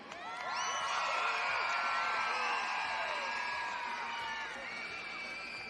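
A large arena crowd at a women's senior gymnastics competition screams, whoops and cheers in a sustained loud roar that swells quickly and holds steady for several seconds, easing slightly near the end.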